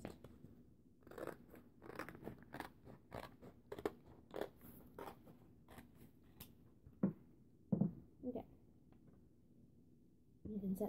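Scissors snip through a stack of paper along a traced line for DIY notebooks, giving a series of close, crisp cuts through most of the stretch, with a few louder snips near the end.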